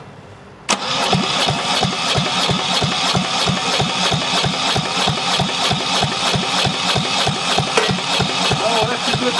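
Marine diesel engine with a suspected fuel pump problem starts abruptly and settles into a loud, close, steady rhythmic idle with even, pulsing knocks.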